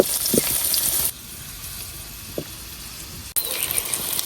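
Young jackfruit fritters frying in oil in a frying pan, a steady broadband sizzle that drops quieter midway and then swells back up, with a few faint clinks from the pan.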